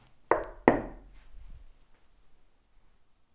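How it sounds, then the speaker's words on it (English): Two muffled knocks land close together near the start, each a dull thud that decays quickly, followed by quiet room noise; no one speaks. "Could you knock for us twice, please?"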